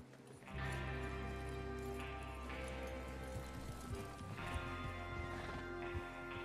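Several horses in Red Dead Redemption 2 clip-clopping and trotting close by, a steady busy rhythm of hooves with occasional snorts and tack rattles, fairly quiet and without talk.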